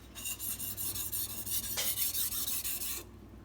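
A carbon steel Santoku knife drawn across a sharpening stone, giving repeated close scraping strokes in an even back-and-forth rhythm for about three seconds before stopping.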